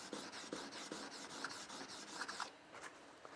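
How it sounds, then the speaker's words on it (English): A steel blade's back rubbed flat on a 1000-grit sharpening stone, a soft steady rasping scrape with repeated strokes, close but faint. "now on the same stone, the 1000, we'll flatten the back."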